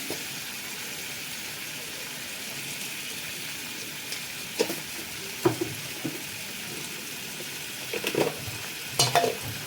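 Fried potato bhaji, made from french-fry-cut potatoes, stirred in a pan, giving a soft steady sizzle with scattered scraping and clinking strokes, a few louder spoon knocks late in the stretch, with no voices.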